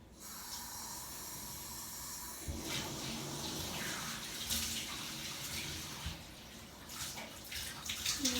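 Lukewarm water poured from a tap or container onto a cotton pad or makeup-remover wipe, a soft, continuous trickling hiss with slight splashy surges, faint and close, no voices.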